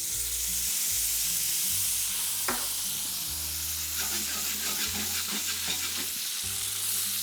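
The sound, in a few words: white wine added to prawns and tomatoes sizzling in pan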